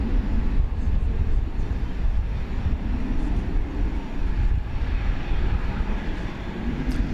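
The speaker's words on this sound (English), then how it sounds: "Got a 737 twin spin for you here." A Boeing 737 twin-engine jet at DFW Airport at night gives off a steady, rumbling low roar at moderate distance, continuous and unbroken throughout, with no talk over it.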